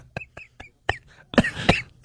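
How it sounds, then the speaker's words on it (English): A man gives a series of short, harsh coughs, a few spaced hacks building into a denser, wheezing burst close to the microphone. "he's coughing now"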